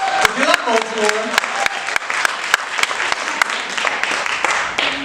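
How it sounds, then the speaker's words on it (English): Audience applause for Baltimore at a live coming-out storytelling show, a steady wash of crowd clapping with a few loud, sharp individual claps near the front, with brief voice and whooping over it early on. "Give Baltimore a round of applause."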